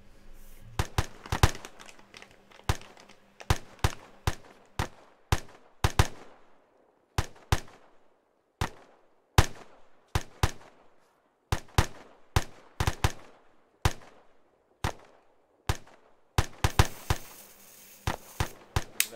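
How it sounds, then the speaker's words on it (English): Sustained rifle fire in the video game Arma III: a rapid run of sharp, loud shots, some in quick bursts, others spaced, echoing with short decays across a firing exercise, no talk. "okay, so actually continue with deliberate fire"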